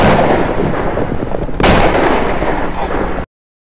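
Gunfire in a film scene with bandits: dense, loud, continuous shooting and blasts, with a sharp crack midway and the roar cutting off abruptly near the end.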